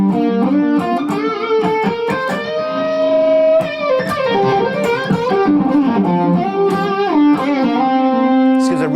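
An electric guitar played through two vintage Maestro EP3 Echoplex tape delays rings out in loud, sustained melodic notes with echoing repeats and a halo of ambience, alone without talk.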